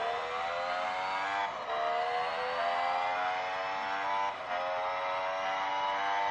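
Synthetic Formula 1 car engine from a mobile racing game, a steady high-pitched drone with gear shifts stepping the pitch up twice, loud and continuous without talk.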